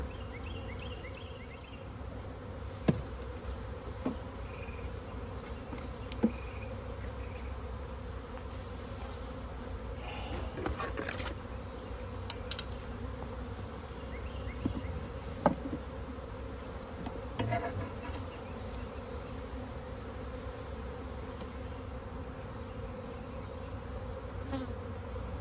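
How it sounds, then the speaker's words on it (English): Steady droning hum of a honey bee swarm issuing, continuous and moderately close, with occasional sharper buzzes of individual bees passing nearby. "We have another swarm issuing."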